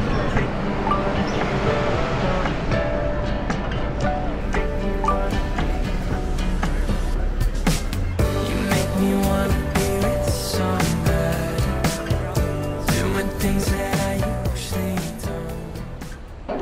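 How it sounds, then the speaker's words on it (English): A Hong Kong train pulls in, a loud continuous rumble and rattle with rhythmic clacking and a rising wash of noise midway, heard up close without talk. "Oh, nandito na ang train."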